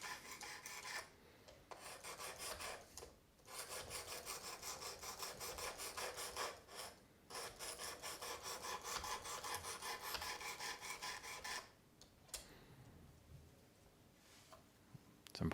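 Knife edge drawn repeatedly along a Work Sharp Precision Adjust sharpening rod while refining the edge, giving close, crisp rasping strokes in a steady rhythm with brief pauses between passes.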